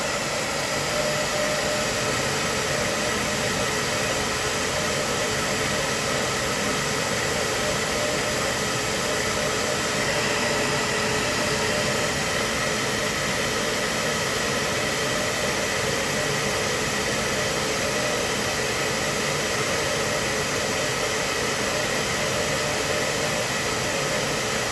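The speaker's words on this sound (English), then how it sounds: "I use my hair dryer." A hair dryer blows air to dry a freshly dyed painted fantasy miniature of a Minotaur, giving a steady, loud, unbroken broadband whoosh that holds level for the whole stretch with no talking.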